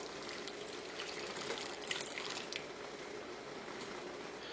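Dissolved coffee pours quietly into a fudge brownie cake mixture, a faint, continuous splashing trickle with soft wet squishing, no talking.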